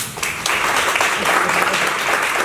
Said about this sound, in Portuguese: palmas para a Silvina, por favor